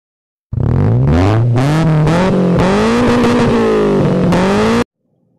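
A car engine revs and changes pitch continuously as the car weaves through a slalom course marked with stakes, loud and close, rising and falling for about four seconds.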